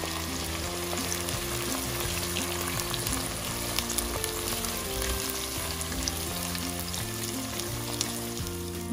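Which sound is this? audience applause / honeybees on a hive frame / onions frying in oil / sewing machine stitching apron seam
onions frying in oil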